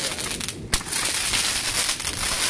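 A New Year's firework goes off with a single sharp crack amid a dense crackling hiss, with no talking.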